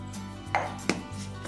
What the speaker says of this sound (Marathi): आणि अद्रक असं कापून घ्यायचं, म्हणजे छान वाटलं जाईल